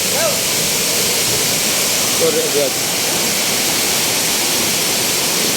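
Constant rushing roar of Liliw Falls in Laguna, water pouring down steadily and close, with a person speaking briefly over it.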